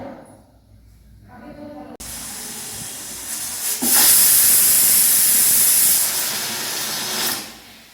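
Steam hisses loudly from a pressure cooker on a gas stove as a dal is cooked, a broad continuous rush that starts abruptly and swells for several seconds before easing slightly, with no voices over it.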